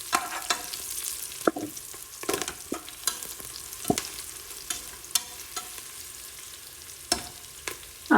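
Three sliced green chillies frying in hot oil for mutton biryani: a continuous soft sizzle broken by frequent sharp clacks and scrapes of a spoon stirring against the pan, close and without speech.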